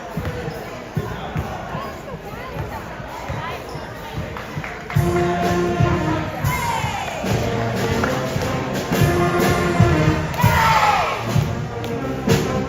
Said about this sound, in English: Got a nice pep band to one side and the cheering squad to the other.